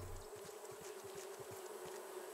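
Bees buzz around honeycomb in the Raft survival video game, a steady close drone with pulsing wingbeat flutters and no talking over it.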